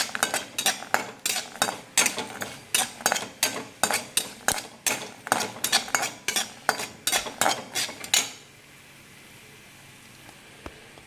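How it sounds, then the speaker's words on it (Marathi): Almonds and cashews fry in a pan as a utensil stirs and scrapes in a quick, regular rhythm of close metallic clinks over a soft sizzle, then the stirring stops and only faint sizzling remains. "हे बदाम टाकले काजू टाकायचे तुम्ही कुठले पण ड्रायफ्रूट टाकू शकता छान फ्राय करायचं"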